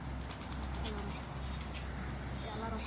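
Domestic pigeons cooing steadily at close range during a home bird-flying session, a low continuous murmur of calls with someone talking over them throughout.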